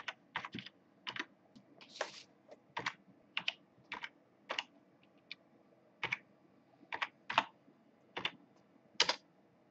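Python code being typed on a computer keyboard, a steady run of crisp, close key clicks in short bursts with small pauses between them.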